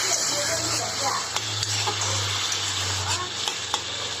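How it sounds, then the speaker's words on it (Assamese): Water poured into a hot pan for a fish and tomato curry makes a steady, close hiss and sizzle, with low bubbling and a few faint clinks. No one speaks. "এতিয়া পানী দি দিলোঁ"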